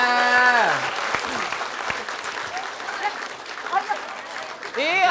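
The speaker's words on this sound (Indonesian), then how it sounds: "Tepuk tangan dulu dong, Bu." Audience applause from a television comedy show studio, a loose patter of clapping sitting under and between talking and laughing voices, with a louder burst at the start and the end.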